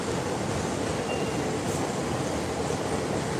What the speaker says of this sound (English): I'm always attracted by the sound of a rolling train.